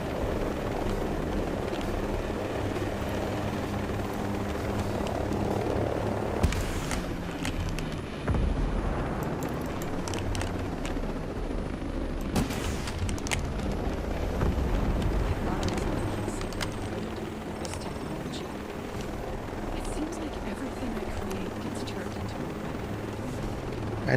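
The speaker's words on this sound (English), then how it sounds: "Oh, there's helicopters following me." Helicopters chasing a player in the video game Ghost Recon Breakpoint, a loud continuous rotor drone layered with game effects and booming bursts throughout.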